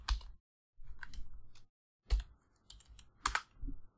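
Python code being typed on a computer keyboard: close key clicks in quick bursts separated by brief pauses, heard alone with no talk.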